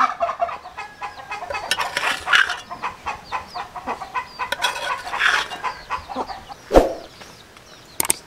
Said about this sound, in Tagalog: Ingay ng manok